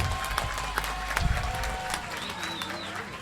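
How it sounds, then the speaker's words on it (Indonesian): A ceremony audience at a Hari Santri 2022 commemoration claps in steady, dense applause that fills the room, with murmuring voices underneath. "kita tepuk tangan"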